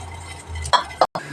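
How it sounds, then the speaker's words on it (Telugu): A spoon stirs crushed masala spices into a simmering tea decoction, giving a few close clinks and scrapes against the pot over a soft bubbling background. "ఊరుకున్న మసాలాని డికాషన్లో వేసుకుందాం"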